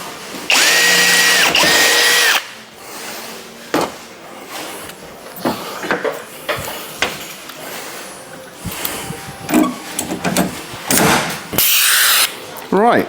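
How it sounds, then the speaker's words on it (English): A rivet gun fixes a clamped kitchen panel frame, with loud mechanical bursts and clunks, some sustained and some short, mixed with a man's speech. "I've punched the holes ever so slightly off centre, and that is because it means the rivet gun can get in more easily."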